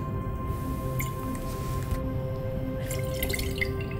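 Wash water squirts and trickles into a titration flask, rinsing down its inner walls. The liquid sounds are soft and faint over a quiet lab background hum.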